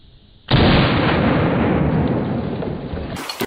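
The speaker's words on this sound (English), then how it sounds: "So, I just shot with a 45 ACP." A .45 ACP pistol round fired into dry ice gives one sudden loud, close blast that rolls into a sustained roaring hiss and rumble lasting about three seconds, then cuts off abruptly.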